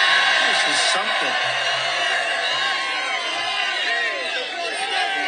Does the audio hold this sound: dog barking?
no